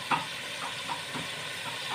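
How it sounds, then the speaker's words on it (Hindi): Chicken and potatoes frying in oil in a karahi, a steady soft hiss and sizzle with faint crackles, heard alone at low level. "देखें, मेरा चिकन आलू फ्राई हो रहे हैं, तेल डाला है"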